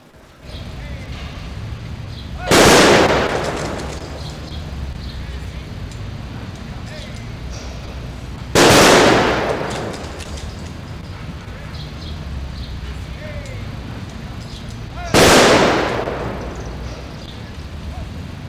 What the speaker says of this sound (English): will fire a salute